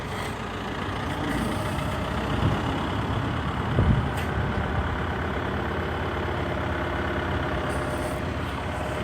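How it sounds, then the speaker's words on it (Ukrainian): A vehicle engine idles steadily and continuously at moderate volume, a low rumble with a couple of faint knocks and no talk over it. "О, гинь-гинь, завівся. Грррт, все як має бути."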